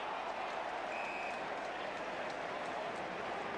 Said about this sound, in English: Crowd roar their approval.